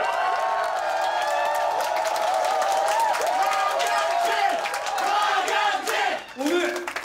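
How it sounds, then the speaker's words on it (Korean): Office staff at a corporate strategy department in a Korean drama applaud and cheer loudly, a steady roar of clapping with whooping, shouting voices layered over it that lasts the whole stretch. "우리 전략 기획실 새끼들한테 힘찬 박수!"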